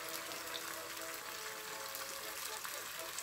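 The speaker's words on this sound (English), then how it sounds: "Then, pwede na tayong magdagdag ng ating vinegar." Vinegar pours into a cooking pan for quail egg adobo, a quiet, steady liquid splash and gush with a soft voice faintly beneath it.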